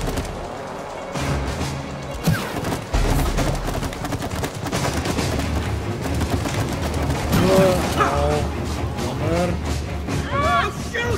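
Cartoonish gunfire in the co-op game It Takes Two comes as rapid bursts of shots and thuds amid game effects, while two people chat over the action.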